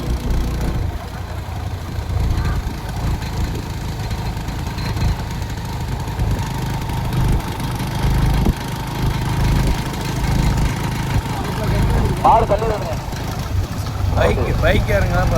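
Motorcycles running alongside a bullock cart race, a steady mid-pitched engine drone under loud outdoor crowd noise and a commentator's voice, with brief higher engine whines rising near the end.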